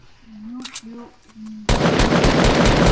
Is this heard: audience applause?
no